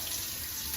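Running tap water for bathing a small dog: a steady, bright rushing stream from a faucet, close and unbroken for under a second, with no talk.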